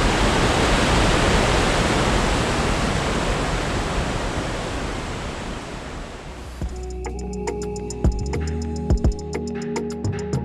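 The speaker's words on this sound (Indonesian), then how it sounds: "akhirnya kami pun sampai di lokasi air terjun Muaro Sangga" Muaro Sangga waterfall in Jambi, Indonesia, roars as a loud, steady broadband rush of falling water for about six seconds, then drops away to quieter, sparser sounds with a few sharp clicks.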